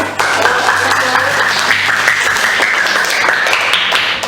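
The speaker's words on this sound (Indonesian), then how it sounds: "Ya, tepuk tangan untuk Yasmin" Applause from students in a classroom, a steady dense wash of clapping that holds at an even level for several seconds, with a faint low hum running underneath.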